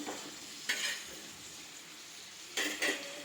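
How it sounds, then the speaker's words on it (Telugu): Onions frying on a low flame for a spinach roti pachadi, a gentle sizzle punctuated by two or three short bursts of spatula stirring, no voices. "ఇది ఇంకా కొంచెం ఫ్రై కావాలి ఫ్రెండ్స్, అందుకనే కొంచెం సిమ్లోనే పెట్టేశాను"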